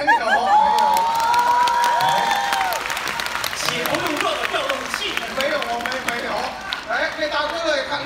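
A theatre audience at a Beijing comedic crosstalk show breaks into loud applause mixed with cheering and whoops, a dense wash of clapping that carries on throughout while voices call out over it.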